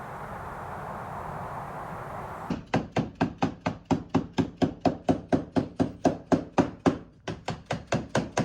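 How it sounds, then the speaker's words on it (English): A hammer peens excess aluminum on a truck camper roof, striking in a fast, even series of sharp metallic blows up close, with a short pause before the rapid strikes resume. "Right now I'm peening over the excess aluminum on the top"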